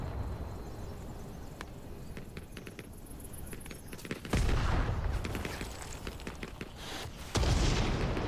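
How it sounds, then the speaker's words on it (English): Mortar rounds landing in the Hell Let Loose Vietnam game, two heavy booming blasts a few seconds apart that rise out of a crackle of distant gunfire. "Looks like mortars coming in."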